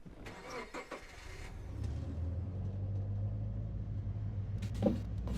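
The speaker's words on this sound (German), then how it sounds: "Und es kommt jetzt anscheinend gerade ein Auto." A car approaches in the Hitchhiker VR game, its low engine rumble building steadily from faint to a sustained drone that dominates the scene, with a brief brighter swell near the end and no talking.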